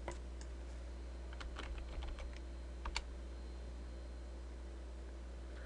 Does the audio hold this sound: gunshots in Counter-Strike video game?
no